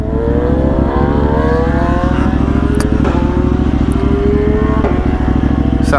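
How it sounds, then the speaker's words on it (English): A KTM motorcycle accelerates hard with a quick shifter, its engine note climbing steadily and broken by two quick, clipped gear changes, loud and close throughout. "sounds like he has a quick shifter"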